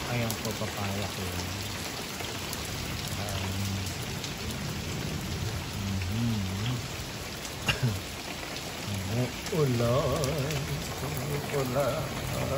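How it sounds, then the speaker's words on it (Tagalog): Morning rain falls steadily in an American backyard garden, a soft continuous patter on surfaces, with a person talking over it throughout. "Ito po, umuulan."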